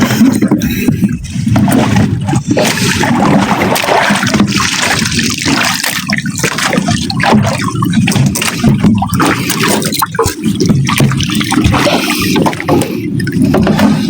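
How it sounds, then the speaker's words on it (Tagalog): Squid catch and water poured out of a bucket, a continuous splashing and gurgling pour lasting many seconds, loud and close, with no talking over it. "Buhos natin mga idol para makita nyo."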